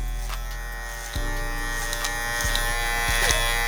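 Electric hair clippers buzz steadily and close by during a slickback taper haircut, the hum shifting pitch as they start cutting hair fed through a comb, with no talking.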